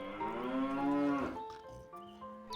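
A single long, loud cow moo with rich harmonics rises and falls, then trails off into quieter, lower lowing.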